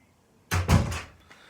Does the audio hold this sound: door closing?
yes